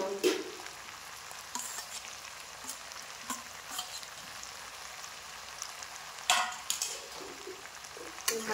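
Aloo dum, a Bengali potato curry, sautéing and being stirred in a pan, with a steady soft sizzle and a few scraping stirs at intervals, no talking.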